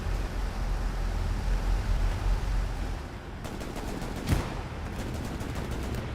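Gunfire crackles in an online World War II shooter on the Omaha map, with sustained rattling weapon fire and a clear sharp shot standing out amid dense battle noise.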